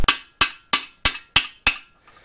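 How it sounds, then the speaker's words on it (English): A hammer strikes a valve guide in a Willys L134 flathead engine six times in an even rhythm, each a sharp, loud, ringing metallic crack that decays quickly, close to the listener with no talking. "All right, time for another whack."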